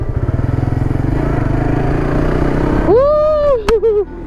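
Suzuki GSX S150 motorcycle on a test ride, its single-cylinder engine chugging rhythmically at low revs, then rising into a sharp rev that climbs and holds before dropping back, close and loud.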